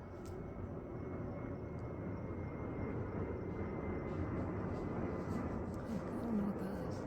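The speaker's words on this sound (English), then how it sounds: "There's an airplane passing over right now," An airplane passes overhead as a steady, broad, low rumble that holds evenly throughout, distant and faint, with no talk heard.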